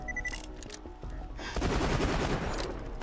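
Rapid automatic gunfire from the video game Borderlands 2, starting with a few scattered shots and building into a dense, loud sustained burst in the second half, with no talk.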